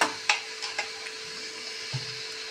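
Grated carrot halwa cooks in ghee in a pan, a soft steady sizzle broken by several sharp scrapes and taps of a spoon stirring against the pan, close and fairly quiet.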